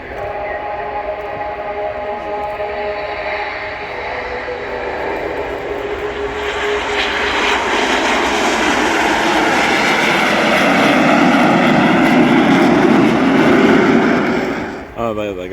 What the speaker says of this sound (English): A little Acceleration during the take-off roll